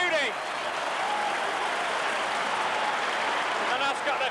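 A football stadium crowd roars and applauds after a goal for Bury FC, a dense, loud, sustained wash of cheering and clapping that continues throughout.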